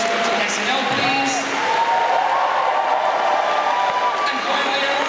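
Audience applause at a convention's Sunday Night Live show, a steady wash of crowd clapping with a few whoops, loud and sustained throughout, mixed with voices.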